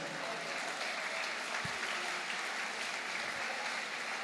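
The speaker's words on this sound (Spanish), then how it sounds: "De un aplauso a Cristo Jesús" A church congregation applauds during a sermon, a steady wash of clapping hands sustained evenly and fairly softly throughout, with no voices rising above it.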